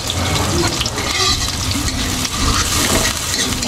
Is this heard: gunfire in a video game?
no